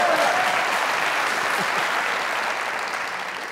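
Steady applause from a studio audience at a comedy talk show, dense and even, fading slightly toward the end.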